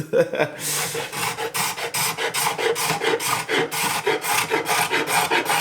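Rapid rhythmic rasping of a scraper or file working the wooden arm bevel of an acoustic guitar under construction, close, loud and steady strokes, with no talk.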